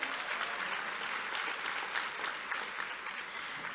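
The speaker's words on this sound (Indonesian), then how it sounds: "Boleh tepuk tangannya?" Steady applause from a large audience at an opening plenary session of a conference in Indonesia, dense overlapping clapping that stays even throughout and eases slightly at the close.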